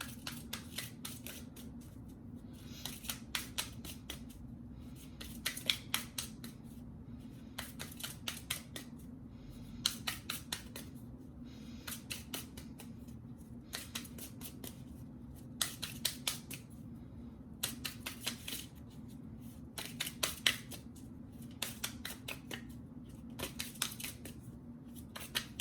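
Tarot cards riffled and shuffled by hand in repeated quick bursts of crisp flutters, close and fairly loud over a steady low hum, with no voices.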